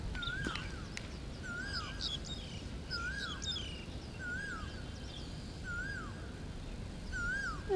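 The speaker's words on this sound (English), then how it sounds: "We hadn't heard that bird here at PKVR. That's that bird we hear all the time at Mission Road." Bird calling beside a junior cricket ground, repeated short descending whistled notes every second or so, clear and fairly close over a steady outdoor background murmur, with some higher twittering in between.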